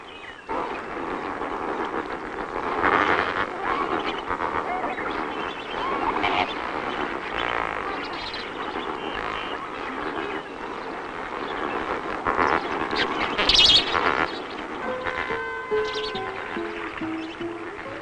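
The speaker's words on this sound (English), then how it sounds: "flamingos are found on Lake Nakuru in Kenya's Lake Nakuru National Park" A large flock of flamingos on Lake Nakuru in Kenya calls in a dense, continuous honking chorus, with a few clearer nasal cries standing out near the end.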